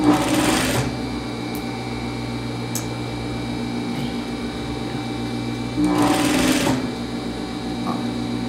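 A sewing machine runs steadily through a double-sided coat, its fast even stitching hum continuous and close throughout, swelling briefly louder near the start and again toward the end.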